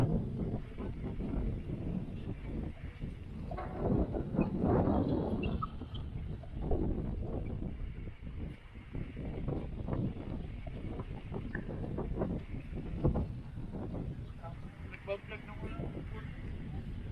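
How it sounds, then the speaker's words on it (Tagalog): Strong wind buffets the microphone on a beach at Taytay, Palawan, a steady broadband roar with gusts throughout, heavy and close, while a person talks over it. "So very windy."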